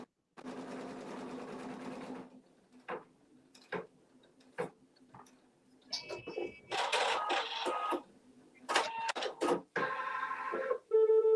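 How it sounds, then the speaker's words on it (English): Embroidery machine stitching a tack-down line around a mug rug, a steady buzzing run of needle strokes followed by bursts of rapid mechanical stitching and clicks, close and loud with no talk. "And Patrice, because it's a tack down, it's sewing something to it."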